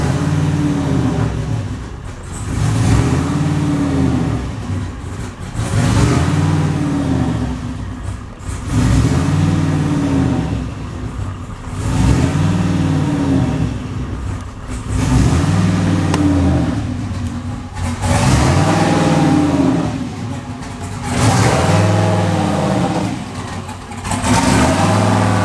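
An LSX V8 swapped into a Nissan 350z, running on a base map after a cold start: loud, close idle broken by repeated revs that rise and fall about every four to five seconds in a regular cycle.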